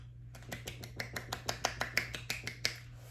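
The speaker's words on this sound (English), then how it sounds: "I can clap with one hand." A series of about fourteen crisp, snap-like one-handed claps in a steady, fairly quick rhythm, close and moderately loud over a low steady hum, with no talking.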